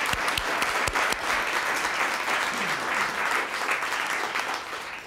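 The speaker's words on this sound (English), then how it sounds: "So let's give them one big round of applause for their work." Audience at a Poetry Out Loud 2014 recitation contest applauds the judges and scorekeepers, a steady, full round of clapping sustained from start to finish.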